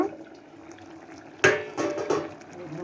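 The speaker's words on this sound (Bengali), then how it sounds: "ঝোলটা আমার ফুটে গেছে," Egg curry gravy boiling in a pot, a low bubbling simmer, then a sudden clatter like a lid or utensil against the pot and louder bubbling, no talk.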